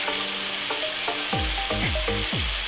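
Pre-fried vegetables for Bengali shukto drop into a hot pan and sizzle loudly, with several sharp stirring scrapes and clatters of a spatula against the pan over the steady hiss.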